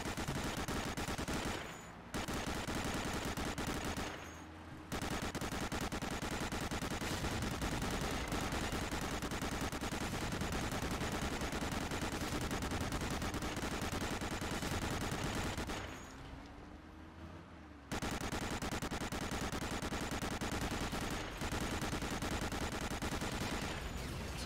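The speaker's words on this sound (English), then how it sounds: "Preferred weapon, 30 caliber machine gun." Sustained .30 caliber machine gun fire in the Medal of Honor video game, a dense, continuous rattle of rapid shots with two brief pauses and a short lull before it resumes loud and steady.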